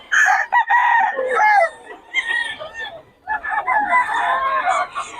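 Roosters and chickens are kept at a fowl yard in Bocaue. Several loud, close crows follow one another with short gaps, mixed with clucking.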